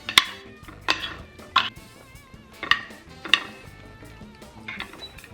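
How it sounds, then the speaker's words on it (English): Onion powder, black pepper, Italian seasoning and paprika are stirred together in a bowl for a shrimp orzo dish. A spoon clinks against the bowl in quick, irregular taps, moderately close and with no talking. "onion powder, black pepper, Italian seasoning, paprika. Now go ahead and give that a mix."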